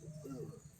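Pigeons coo softly inside a pigeon cage, a low murmuring call running steadily through a brief moment with faint background hiss.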